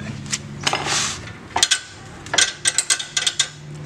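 Bolts on a Yamaha Vixion rear shock absorber are tightened with a tool, producing a run of close metallic ratcheting clicks and clanks in quick bursts.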